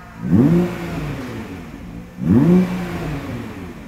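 A Nissan GT-R Track Edition engine revs twice up to its soft limiter, each blip rising sharply then holding and easing off, loud and close with no talk over it.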